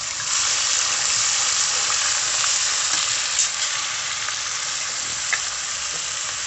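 Ground spice paste sizzles and fries steadily in a hot kadai, a dense continuous hiss with faint stirring clicks, close and loud throughout.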